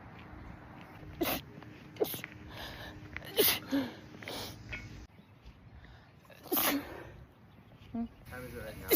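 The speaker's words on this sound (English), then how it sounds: "The sun makes me sneeze." A person caught in a sun-triggered sneezing fit lets out several sharp, explosive sneezes in irregular succession, close to the mic, with sniffs and breathy sounds between them.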